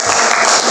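A classroom audience claps for a presenting group, a steady dense wash of applause that runs the whole brief moment without pause.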